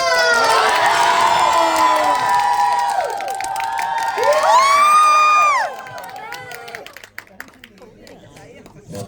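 A theatre crowd at a thank-you screening greets a special guest, Louis Koo, with loud excited screams and cheers that swell, then fade after several seconds into scattered claps and murmurs.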